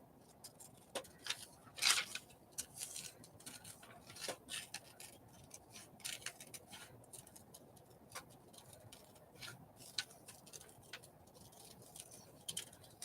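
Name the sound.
scissors cutting paper for collage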